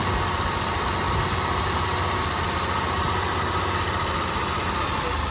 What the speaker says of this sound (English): Now I'm bringing the idle back up again.